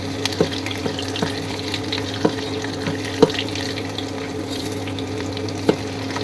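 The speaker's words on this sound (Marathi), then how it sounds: "लसणाला मस्तपैकी लालसर रंग येईपर्यंत सुरुवातीला तळून घ्यायचं आहे." Garlic fries in oil in a pan over a gas stove turned to full, giving a continuous close sizzle under a steady hum, punctuated by sharp utensil taps every second or so.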